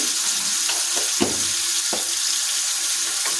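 Cleaned gugli snails hit hot oil in a pan, raising a loud, constant close sizzle with a few sharp knocks and scrapes as they are added and shifted, no voices.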